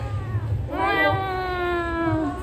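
A cat meows in a long drawn-out cry amid a crowd of cats, rising loud and near after a short lull, with low chatter and background noise underneath.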